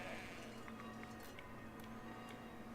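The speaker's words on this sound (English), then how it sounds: "sheep are sheeping" Sheep in the village-building game Foundation bleat faintly and repeatedly over a steady background of in-game ambience and soft ticking.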